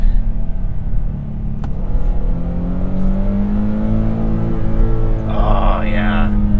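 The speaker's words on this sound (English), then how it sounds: "The rev limiter sounds kind of cool too." A 2022 Nissan Frontier pickup truck engine roars and revs up close to the rev limiter, its pitch climbing and holding near the top, with a rough rumbling drone throughout.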